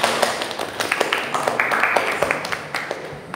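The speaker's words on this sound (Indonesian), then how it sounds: "tepuk tangan dulu" Students in a vocational high school group counselling class clap their hands together in a short burst of quick, uneven claps at close range.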